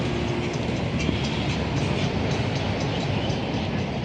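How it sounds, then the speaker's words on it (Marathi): Small train ride at a fair: a steady, loud rumble of wheels and carriages rolling past, continuous and close, with faint clatter and no clear voices. "आणि इथे ते काय बोलतात ट्रेन पण आहे"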